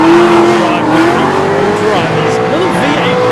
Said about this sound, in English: Flat out on throttle. Back tyres spinning.